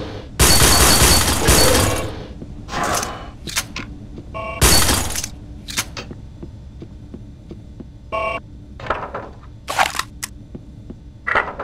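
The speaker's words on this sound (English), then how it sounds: "Normal glass can be shattered by weapon fire, allowing you into the room beyond" Normal glass shatters under weapon fire in Red Faction: loud bursts of breaking glass and gunfire come in several separate, close, sharp bursts with quieter gaps of clinking and hum between them.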